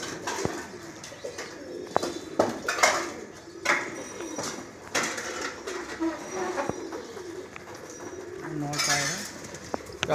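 Pigeons of the Madrasi breed coo in a loft, soft overlapping calls mixed with flutters and clatter, while people talk nearby and a rumble like a passing train runs underneath.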